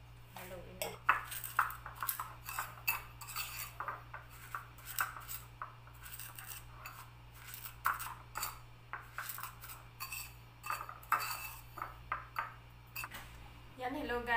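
Sliced mango with chili being stirred in a bowl, repeated clinks and scrapes of a utensil against the dish in an irregular rhythm, with quiet talking underneath.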